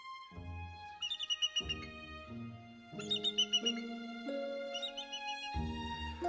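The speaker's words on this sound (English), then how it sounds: "While it doesn't sound very intimidating, the bald eagle is one of the most distinct and fierce birds" A bald eagle calls in a series of high, thin piping notes repeating in short bursts over a steady background, fairly clear and close, with brief pauses between phrases.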